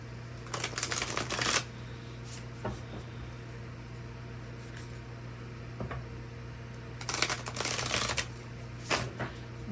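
Shaman Wisdom oracle cards are shuffled in two close bursts of rapid riffling about six seconds apart, with a few scattered soft card taps in between.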